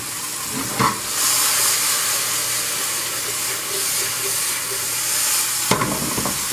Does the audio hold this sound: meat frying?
yes